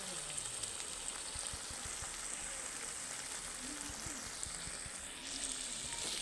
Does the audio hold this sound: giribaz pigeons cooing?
no